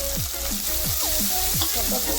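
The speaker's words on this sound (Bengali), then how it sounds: "দিয়ে দিচ্ছি কুচিয়ে রাখা পেঁয়াজ আর তাড়াতাড়ি যদি পেঁয়াজটা সেদ্ধ এবং ভাজা হয় সেজন্য দিয়ে দিচ্ছি লবণ" Chopped onions frying in a pan with salt, a loud continuous sizzle joined by repeated rhythmic stirring and scraping strokes of a spatula, close up and without speech.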